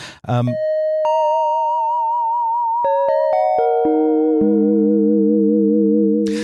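Bright electronic FM synthesizer chime tones from a Yamaha Reface DX ring out in a descending doorbell-like pattern, several clean sustained notes layering with a slight wobble.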